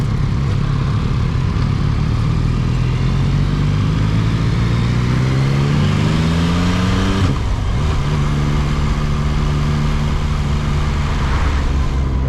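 Yamaha MT-09 motorcycle ridden on a road, its engine loud and steady as it revs up through rising pitches, with a gear shift and brief dip midway before the engine pulls strongly again.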